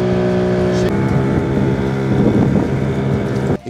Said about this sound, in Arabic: طيب احنا المفروض القارب اللي احنا راكبينه ده هنقعد فيه 25 دقيقه لحد ما نوصل للجزيره